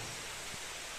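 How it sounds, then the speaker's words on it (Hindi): Steady, dense rain falls outdoors, a continuous broadband hiss that stays even and unbroken for a brief stretch with no voices. "बारिश आ गई।"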